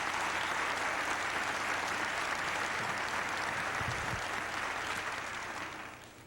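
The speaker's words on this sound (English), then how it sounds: "You give those people a nice round of applause." An audience at an elementary school graduation ceremony applauds award recipients, a dense, sustained wash of clapping from a large crowd that holds steady and then begins to fade.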